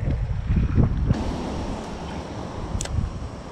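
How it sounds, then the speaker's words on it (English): Rough wind buffets the microphone beside a fishing creek, a steady loud roar and rumble with a sharper gust burst partway through. "Now, the wind is pretty rough in here"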